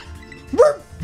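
A creature in a Pokémon video game gives a single short, bright bark midway through, loud against quiet game background, followed by a faint second blip.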